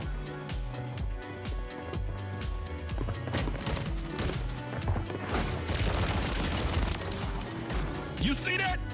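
Rapid automatic bursts from an MCW rifle in Warzone 3, fast regular shots rattling over loud game music and effects, with a voice talking during the firing.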